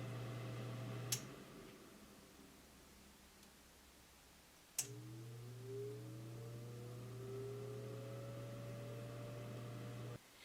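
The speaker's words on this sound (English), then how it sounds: "This is the sound of the fan on high." A steady inline exhaust fan hum on an xTool S1 laser cuts out with a click, leaving quiet, then clicks back on and spins up again to a constant drone on its high setting.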